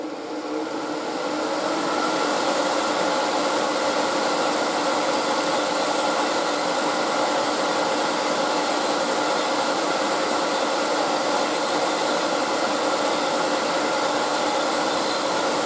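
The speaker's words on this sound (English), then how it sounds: "Lock the handle off, and we're going to cut all the way in and back out again." Hope Easy Set threading jig cutting steadily into sycamore timber, a continuous loud motorised whine and rasp that holds without a break from start to finish, with no talking.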